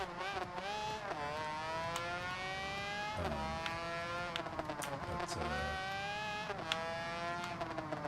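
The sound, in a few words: motorcycle engine in the video game Ride 2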